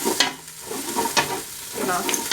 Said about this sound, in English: Now that I have finished sauteing my celery and onions